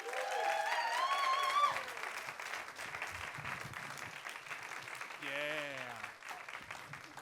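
A crowd applauds warmly, clapping steady at first and then fading, with cheers and a voice speaking over the tail end.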